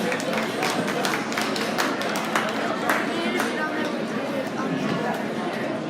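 At a winter swine jackpot livestock show, the audience gives a round of applause. Scattered, crisp hand claps rise over crowd chatter and an announcer's voice in a large, echoing hall.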